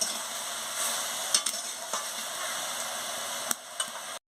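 Onion stalks with chili and turmeric powder frying in a pan, stirred with a steady sizzle and occasional scraping clicks of the spoon, close and continuous.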